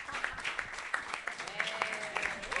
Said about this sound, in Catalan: Aplaudiments per Pere García, que avui deixa de ser regidor a la sala de sessions de l'Ajuntament